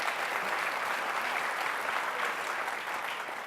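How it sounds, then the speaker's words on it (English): Steady, dense audience applause fills a summit panel session on refugees, even and sustained from start to finish with no voices over it. "A round of applause for her."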